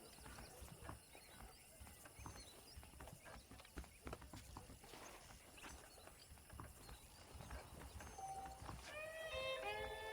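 Steady clip-clop of horse hooves trotting along in the video game Red Dead Redemption, with ambient background and a brief whinny near the end.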